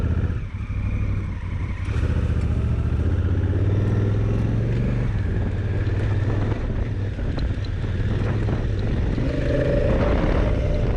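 Honda Africa Twin motorcycle ridden off-road along a shoreline, its engine a loud, steady low drone throughout, with heavy wind buffeting the microphone and no talk.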